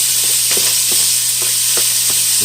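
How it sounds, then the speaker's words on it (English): Onions and garlic sautéing in avocado oil in a pan, a steady close sizzle with a few soft stirring clicks, no voices. "I'm gonna saute our onions and our garlic."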